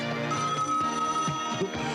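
A voice imitates a telephone ringing in an animatronic robot showtape, a sustained buzzy trilling tone with warbling harmonics, close and clear, lasting about two seconds.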